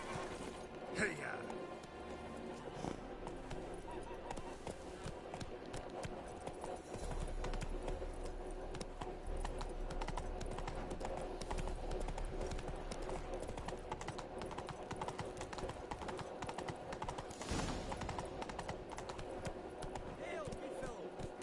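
Roach, a horse in The Witcher 3, gallops with a steady, rhythmic clip-clop of hooves, moderately close, under background game sounds and a voice.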